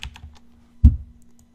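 Keyboard typing on a computer in a garment-printing setup, a few soft taps followed by one louder, sharper keystroke cluster near the end, close and alone with a low steady hum underneath.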